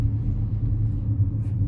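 Car driving along Chuckanut Drive, a narrow, rocky coastal road between Mount Vernon and Bellingham, heard from inside as a steady low engine and road rumble, close and fairly loud, with no voices.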